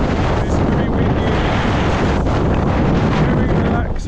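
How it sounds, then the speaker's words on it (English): Strong wind at a beach area, a loud continuous roar buffeting the microphone with dense low rumble, steady and unbroken from start to finish. "it's very windy,"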